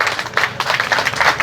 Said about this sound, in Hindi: तो मैं रितु के लिए तालियां बजवाना चाहूँगा